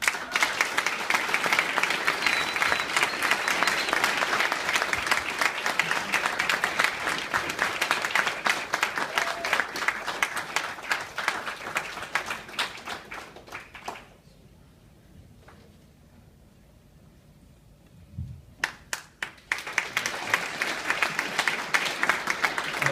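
Loud, steady applause from an audience at a medical resident graduation ceremony fills the hall, breaks off into near silence for a few seconds, then resumes with scattered claps building back to full clapping.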